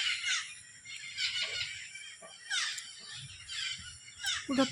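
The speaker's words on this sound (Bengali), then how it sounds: "টিয়া পাখি সব" Parrots calling in trees, a run of harsh, high squawks and screeches repeating every second or so, moderately distant over a quiet outdoor background.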